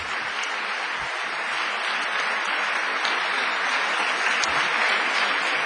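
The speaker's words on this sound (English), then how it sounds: "So could you please give them a big round of applause?" An audience at a school Veterans Day ceremony applauds steadily: a thick, even wash of many hands clapping at once, with no break.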